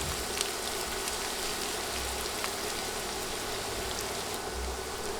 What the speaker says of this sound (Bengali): পেঁয়াজ দিয়ে নেড়ে নেড়ে ভেজে নিব।